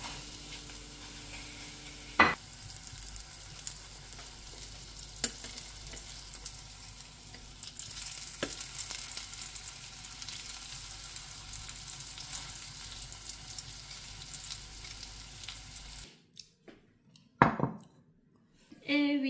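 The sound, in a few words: food cooking in a pan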